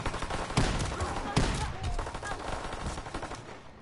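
Rapid gunfire rattles on in a zombies survival video game, a dense string of bursts running through the whole stretch at a moderate level, with occasional voice in the background.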